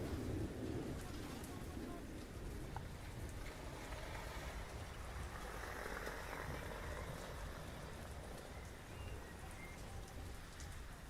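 Steady rain falling on surfaces in the Titanfall 2 frontier, a dense continuous hiss that stays even throughout, with faint background voices mixed in.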